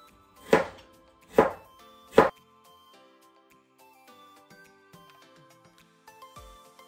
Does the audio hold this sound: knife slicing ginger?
yes